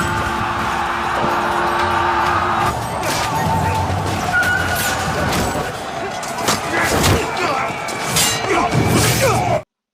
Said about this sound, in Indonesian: Terjadilah pertempuran di sana.